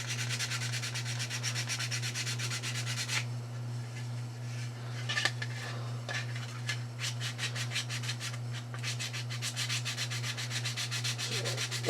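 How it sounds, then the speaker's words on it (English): Filler is sanded by hand on a Star Fighter model, giving steady rapid rasping strokes close up, a brief pause partway through, over a constant low electrical hum. "Sand off some of that filler that we put on there."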